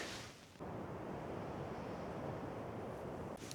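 Steady, broad wind rushes through forest treetops around a solo camping spot at night, a continuous whooshing roar with no voices.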